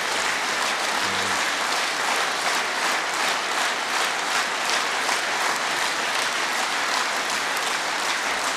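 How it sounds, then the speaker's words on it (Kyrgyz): Sustained applause from an audience at a Kyrgyz state ceremony, a dense, even roar of clapping that carries on unbroken throughout, with no voices rising above it. "Мына ушул кол чабууларды өзү айтып турат"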